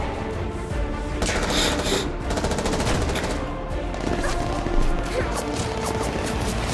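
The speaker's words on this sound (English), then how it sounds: "Of course she'd be operating grenade launchers." Chaotic combat in Genshin Impact with rapid gunfire and several heavy grenade launcher blasts, dense and loud throughout.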